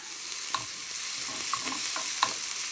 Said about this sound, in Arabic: شوحنا البصل اهوت